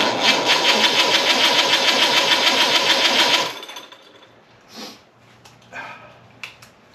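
An Opel car engine runs loud and rough for a few seconds, then cuts out, leaving faint clanks and handling noises nearby.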